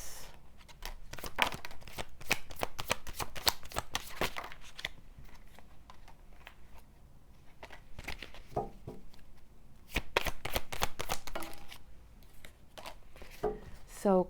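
Oracle cards from the Soul Helper deck are shuffled in repeated bursts of crisp riffling and flicking, close and fairly quiet, with brief pauses between bursts and no one talking.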